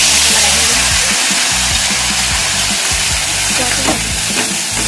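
Ground masala paste fries loudly in a pan for an eaggplant bhaji, a steady dense sizzle with a few scraping stirs, close and continuous with no voices.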